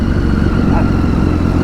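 Superbike engine running steadily close by, a continuous low throbbing drone on a city street in Mumbai traffic, with no voices over it.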